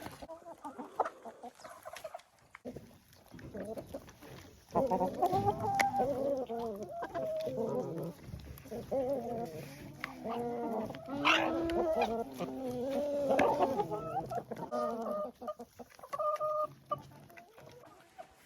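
Hens cluck and squawk in a close, busy flock while being fed raw grated beetroot, their calls overlapping steadily through most of the stretch after a quieter start.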